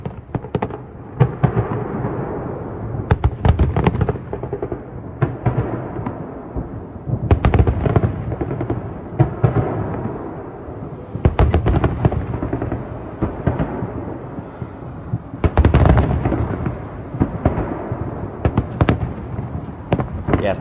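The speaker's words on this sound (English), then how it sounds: "they decided to do some fireworks to celebrate it" Fireworks in Moscow for an invasion anniversary crackle and boom in repeated volleys, clusters of sharp bursts and rumbling reports rising and falling over twenty seconds, distant but strong, with no voices.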